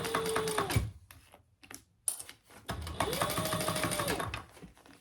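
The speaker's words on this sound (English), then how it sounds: "And then we're ready to top stitch the bag." A sewing machine top-stitches a crossbody bag in quick, close rattling runs, with a short pause partway through before the stitching resumes steadily.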